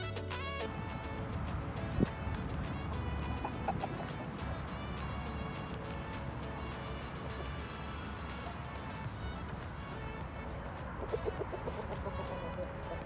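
Chickens cluck and call on a farm beside a Thai temple, mixed into a dense, busy outdoor background with scattered knocks and faint voices throughout.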